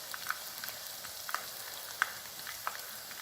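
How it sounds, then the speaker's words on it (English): Chicken pieces sizzle in a deep fryer with a steady bright hiss, broken by scattered sharp pops and crackles, heard close and moderately loud without talk. "There's nothing quite like the sound of sizzling chicken in a deep fryer."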